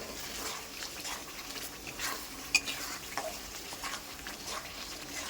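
Spoonfuls of yogurt being stirred gently into meat in a pan for a spicy mutton dish, soft scraping strokes over a low steady sizzle, with one sharp clink of a utensil partway through.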